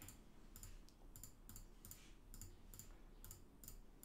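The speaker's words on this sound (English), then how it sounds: "my mouse has a pretty loud click" A loud computer mouse clicks about nine times in four seconds in a steady, evenly spaced rhythm, faint and close, with no talk over it.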